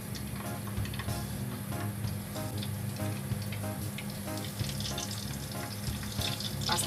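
Flour-coated tofu frying in hot oil, a steady loud sizzle and crackle throughout with no talking.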